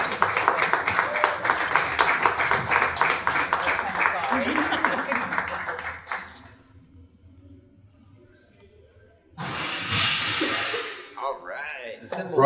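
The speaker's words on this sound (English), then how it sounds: "Give them all a round of applause again." Audience at an entrepreneurship pitch night applauds with brisk, dense clapping for about six seconds, then goes quiet before a second burst of clapping mixed with voices.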